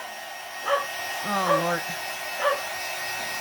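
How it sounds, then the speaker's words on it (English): Several mutts bark three times at a moderate distance over a steady electric dryer hum, while a person speaks a brief exclamation. "See, there's my mutts barking."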